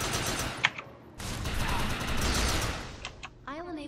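Rapid gunfire with the overcharge power active in the Defiance video game, a loud sustained burst of shots filling the middle of the clip after a few sharp cracks, ending as a voice begins speaking.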